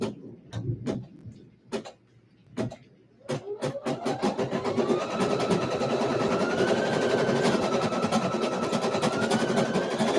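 An embroidery machine stitching a design onto onesies: a few sharp separate clicks, then a steady fast mechanical ticking and whirring hum that runs on close and fairly loud, with no one speaking.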